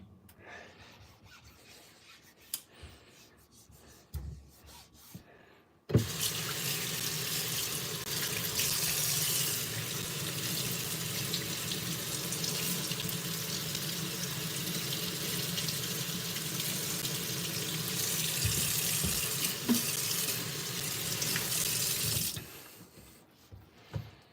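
A straight razor with soap is rinsed under a running tap, the water gushing into a sink steadily for about sixteen seconds with faint rubbing, set between quieter handling noises.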